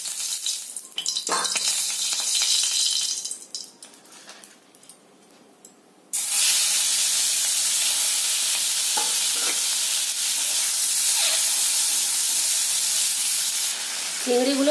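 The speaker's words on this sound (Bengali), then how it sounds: "এবার ওতে আরেকটু তেল দিয়ে আমি চিংড়িগুলো ভেজে নেব" Prawns frying in a little oil in a pan: quieter stirring and scraping at first, then a sudden loud, steady sizzle that hisses on continuously.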